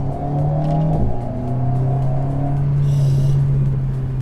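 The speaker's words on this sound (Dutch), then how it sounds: "Moet je even op dat turbo geluid letten." A turbocharged 2020 Alpine A110S engine drones close by, its pitch shifting as it revs, with a brief airy turbo whoosh rising over the steady rumble.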